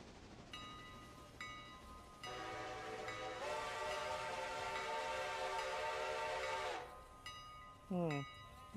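A locomotive horn sounds in the railroad simulation game Railroader: repeated whistle-like tones, then one long sustained blast lasting several seconds that cuts off and gives way to a brief rising toot, loud against a low rumbling background.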